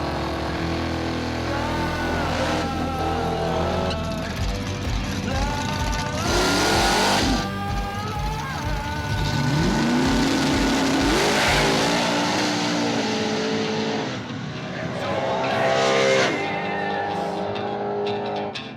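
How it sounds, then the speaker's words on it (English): An S10 Blazer and a Mustang run a Chicago street race, their engines revving hard and roaring loudly through repeated acceleration surges, with a brief tire squeal, up close and almost free of talk. "Race 5 is Peachy in the S10 Blazer versus John in the Mustang"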